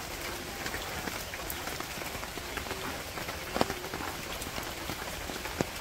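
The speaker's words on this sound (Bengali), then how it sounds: "কাঁঠালের থেকে জল পড়বো আনছে" After rain in a Bangladeshi village, water drips from a jackfruit tree, scattered sharp drops and occasional louder plops over a soft, steady patter of falling water.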